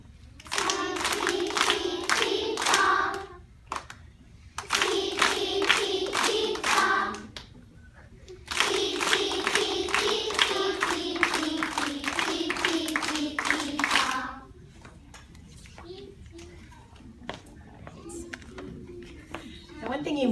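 Several bursts of rhythmic hand clapping by first-grade children at a school music program, each a few seconds long with short pauses between, mixed with children's voices chanting along.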